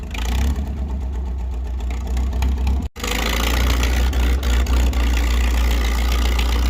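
Farm tractor engine pop-started in fourth gear while mudding, a loud, steady chugging drone with a brief dropout before it runs on strongly, close and dominant.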